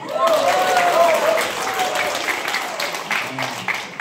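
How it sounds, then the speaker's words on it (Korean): A church gathering applauds a pastor, sustained clapping from a group while a voice speaks over the start, then applause continuing with a few brief tones near the end. "우리 황명철 목사님에서 박수"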